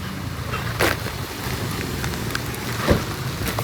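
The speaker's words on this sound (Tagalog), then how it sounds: "umuulan dito tayo sa Rosales" Rain falling outdoors in Rosales during a storm, a steady wash of patter mixed with wind noise and a couple of brief louder gusts.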